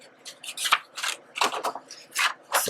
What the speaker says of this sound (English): I'm going to cut these out